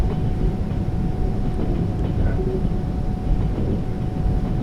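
Train running in Trans-Siberian Railway Simulator, a loud steady low rumble with continuous rolling noise and no clear breaks, no talk over it.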